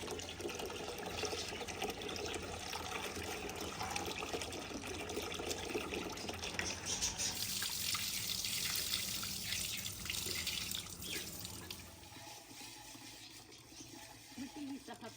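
Rice being washed under a running tap, a continuous close rush of water with swishing and splashing that thins toward the end.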